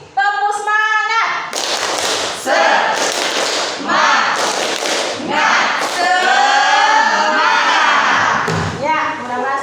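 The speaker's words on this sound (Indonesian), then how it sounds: "Sekali lagi, tepuk semangat." A class of students claps in a rehearsed rhythmic cheer pattern, loud and close, with sharp bursts of hand claps alternating with short pauses while a teacher's voice and children's voices sound between and over the claps.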